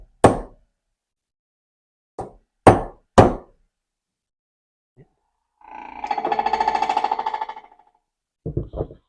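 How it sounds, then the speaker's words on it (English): Hammer blows on a metal punch staking a pin on a Honda Pioneer 500 differential locker: three or four sharp, loud, close strikes, a pause, a longer buzzing tool noise, then a quick burst of final taps. "put a little punch on each side just so that pin can't come back out"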